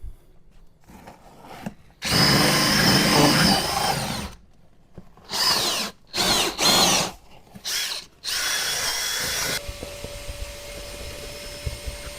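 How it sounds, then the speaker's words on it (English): Whirring cordless drill spins a scrub brush against the carpet of a Toyota Corolla during a detail, running in one long loud burst and then several shorter pulses, ending with a steady hum. "by running this brush on the carpet right now, you're creating an agitation, is bringing up the dirt up to the top"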